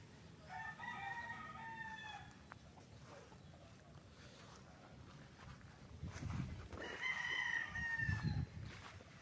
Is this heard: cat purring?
no